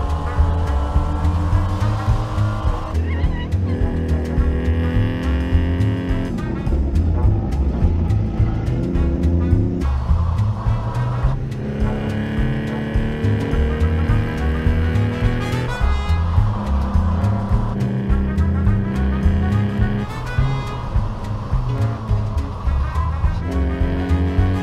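Group 5 PRO3 race cars roar past on a circuit, one engine after another rising and falling in pitch with gear changes, loud and continuous with overlapping passes and no talk.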